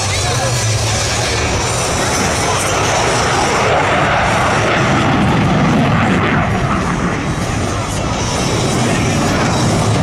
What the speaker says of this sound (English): and the F-16 Fighting Falcon.